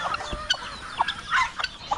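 Farmyard chickens cluck in short scattered bursts, several birds calling at once at moderate distance, with no talking over them.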